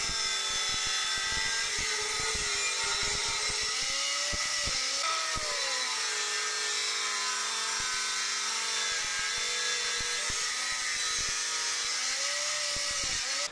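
An angle grinder cuts through material in a series of tool tests, a loud sustained high whine with pitch that dips and recovers under load, alongside short clicks and knocks between cuts.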